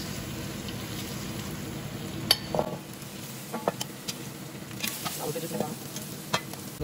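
Oxtails fry in a pan with onions being scraped around, giving a steady close sizzle under scattered scraping and clinking strikes of a utensil against the pan, with no talk.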